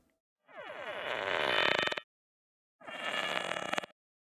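Two bursts of dense, buzzing texture from a ceramic recording played backwards, each swelling and then cutting off abruptly, separated by a short silence.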